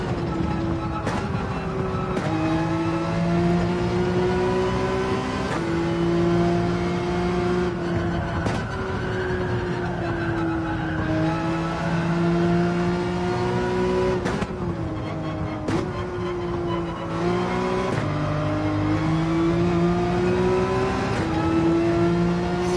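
A Porsche 911 engine in Gran Turismo 7 revs and climbs through the gears, with rising and falling whine and brief dips at each shift. Loud, continuous and close, with no talking.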